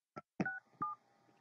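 Telephone keypad tones: three short beeps as a number is punched in, spaced apart and fairly clear, with a faint voice in the background.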